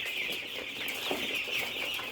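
A flock of broiler chicks, nine days old, chirps and peeps continuously nearby, a dense high-pitched chatter with occasional soft clucks.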